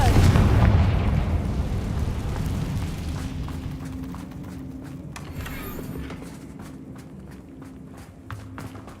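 A Confringo blasting spell explodes in the Hogwarts Legacy video game, a loud booming burst that rolls into a long rumbling decay and fades gradually over several seconds, with faint clatter near the end.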